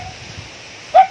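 A dog at a rural house gives one short, fairly close bark near the end, over a quiet outdoor background with no talking.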